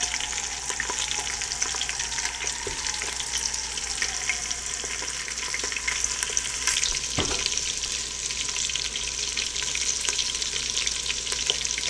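Buffalo chicken wings frying in very hot oil, a dense, loud, continuous crackling sizzle that carries on steadily for the whole stretch, with one brief thump partway through and no voices.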